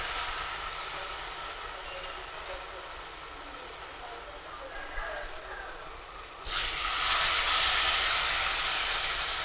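Pieces of Bengali ash gourd snack fry in hot oil with a steady crackling sizzle that swells suddenly louder partway through, close and continuous.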